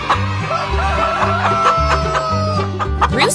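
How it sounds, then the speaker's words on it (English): A rooster sound played alongside a plastic toy rooster: loud, close crowing and clucking calls in quick repeated bursts, heard alone without speech. "Rooster,"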